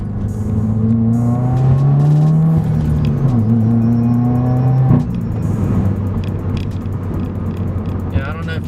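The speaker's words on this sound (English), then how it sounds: "you can still hear the turbo noise pretty well from the factory" Turbocharged car with a factory turbo pulling hard in second gear, engine tone rising steadily with a whooshing turbo whine, then a gear change around the midpoint before a sustained loud drone, close inside the cabin.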